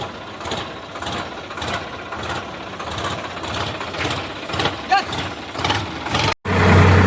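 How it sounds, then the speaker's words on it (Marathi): A tractor climbs up out of a river onto a rural track near an old bridge during a maize harvest, its mid-pitched engine chugging steadily and fairly loud throughout, with rhythmic pulses, a brief clunk, and a sudden cut near the end. "पांदी का नदीतून ट्रॅक्टर वर येत आहे"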